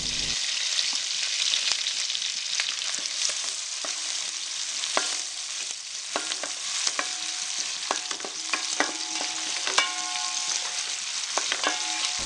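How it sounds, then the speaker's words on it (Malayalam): Finely chopped onion sizzles loudly with cumin seeds in a hot pan, a steady close frying hiss broken by occasional scraping stirs. "1 സവാള ചെറുതായി അരിഞ്ഞത് ചേർത്ത് ഒന്ന് വഴറ്റി കൊടുക്കാം"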